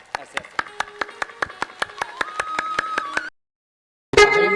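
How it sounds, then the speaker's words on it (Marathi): Rhythmic hand clapping keeps a steady, quick beat at a haldi celebration with Agri band drums, about fifteen sharp claps over a sustained tone. After a short silence, a loud burst of music or voices cuts in. "टाळ्या पण वाजवतोय"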